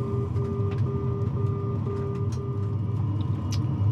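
A steady, repeating series of short mid-pitched outer marker beacon beeps pulses evenly, about 5.5 miles from the runway, over a constant low Comet jet cockpit engine drone, with a faint higher tone throughout.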